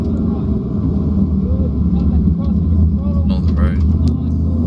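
A race car drives around the Sandown track, its engine a loud, steady rumbling drone heard from inside the car, with a person speaking over it.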